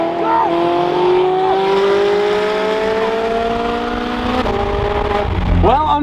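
A McLaren 765LT supercar accelerates hard and loud up close, its engine note rising steadily through the gears with a brief shift break before climbing again.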